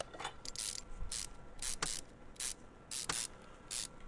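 Ratchet wrench removing radiator fan bolts in Car Mechanic Simulator 2021, heard as about eight short, crisp clicking bursts in an uneven rhythm, close and fairly quiet, with no talk.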